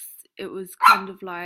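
A pet dog barks indoors close by, giving a couple of short, sharp barks mixed in with someone talking.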